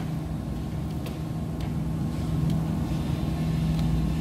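A Nissan TB45 engine with severe low power and a plugged exhaust runs at a steady, droning idle-like hum, its RPM rising only slightly and gradually. A few faint clicks come through.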